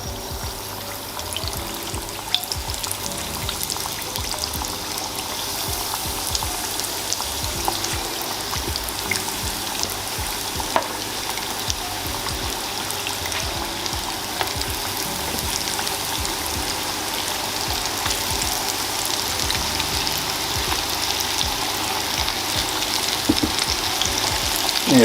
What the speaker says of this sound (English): head on over to the fryer. We can go ahead and go on in with our first batch here.